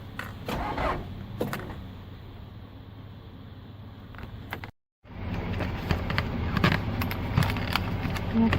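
A cold, dead diesel engine cranks over on a lithium battery in a few short bursts, with a brief sharp cutout midway and then more cranking and engine noise, heard up close.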